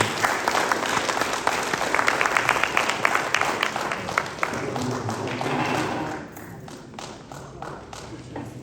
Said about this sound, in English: let's give all of these candidates a applause